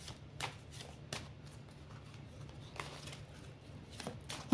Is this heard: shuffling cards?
yes